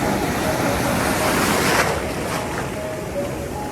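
Ocean surf washes and rushes steadily with heavy wind buffeting the microphone, a loud close broadband roar without clear individual wave breaks.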